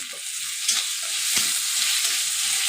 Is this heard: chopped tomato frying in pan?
yes